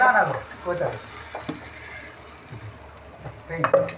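Ground chutney with turmeric is stirred in a hot pan, with soft scraping and a low sizzle near the mic and a voice talking over parts of it.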